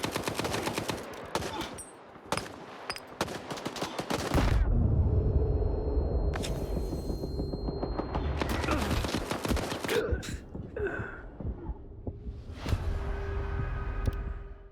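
Dense, rapid gunfire from a firefight in S.T.A.L.K.E.R. 2: Heart of Chornobyl, with close, loud bursts that rattle for several seconds and then give way to a heavy rumble and scattered later shots.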